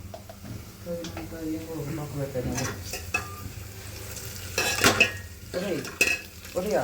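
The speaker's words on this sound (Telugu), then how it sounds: "చిమ్ములో పెట్టి దాన్ని అలా అలా అలా తిప్పాలి కొంచెం ఒక గెంటితో" A spatula stirs and scrapes masala around a hot sizzling pan while cooking rasam in a village kitchen, with soft metallic clinks, frying hiss and voices talking alongside.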